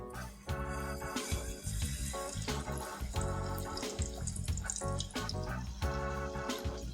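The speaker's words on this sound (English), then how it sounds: "I'm just going to drop these burger patties with the coating into the oil to deep fry them." Breaded chicken burger patties deep fry in hot oil in a wok, giving a steady, busy bubbling sizzle that carries on at moderate volume throughout.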